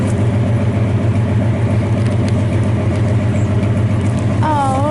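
A 1983 Chevy 4x4 truck engine runs steadily at close range, a constant low droning rumble throughout with little change in pitch, and a faint whine at the very end.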